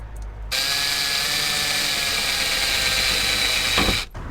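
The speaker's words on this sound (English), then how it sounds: "I'm gonna put this on the wall and drill this in from the outside" A power drill boring into a camper van's wall from outside, starting abruptly with a steady high whine that holds for over three seconds before stopping suddenly, loud and close.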